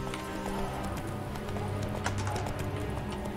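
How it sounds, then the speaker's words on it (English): Horse hooves galloping in Witcher 3, a quick, loud rhythmic clip-clop that drives steadily throughout over a low game ambience, with no talk. "Just power through, Roach. Come on, you can do it"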